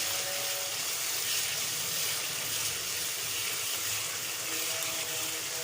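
A steady, close stream of water pours and splashes continuously into a cooking pan without pause, with no voices over it.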